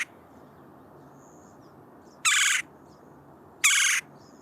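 Red-bellied woodpecker calling outdoors, two short rolling churr notes spaced about a second apart over quiet background ambience.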